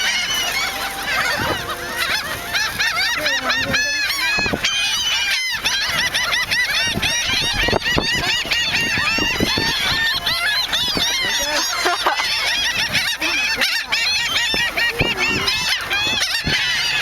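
A flock of seagulls calling near a car, dense overlapping squawks and honking cries filling the whole stretch loudly and continuously, with brief breaks in the chorus.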